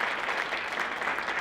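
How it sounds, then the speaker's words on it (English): Steady applause from an audience at a folk music association's annual general meeting, a brief, even wash of many hands clapping at moderate level with no talk over it. "I want to give a big round of applause to the staff of the Folk Alliance International."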